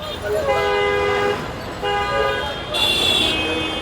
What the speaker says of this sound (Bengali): কান ফাটানো হর্ন থেকে রাজধানীবাসীকে কিছুটা প্রশান্তি দিতে